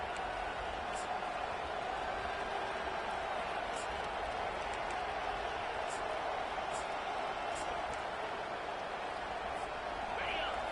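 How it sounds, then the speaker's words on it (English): Steady, loud roar of a fired-up college football stadium crowd early in the game, a continuous wash of cheering and noise with a few brief higher shouts or whistles rising above it, no pauses throughout. "this crowd is fired up. Listen to this noise here."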